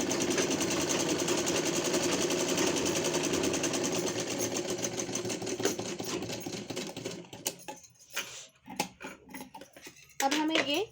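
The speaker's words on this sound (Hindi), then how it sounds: "यहाँ पर अब हमें वापस से स्ट्रेट स्टिचिंग लेनी है" Sewing machine running straight stitching on plain net fabric for a gown: a fast, steady mechanical whir for several seconds, then stopping into a few scattered clicks and handling sounds.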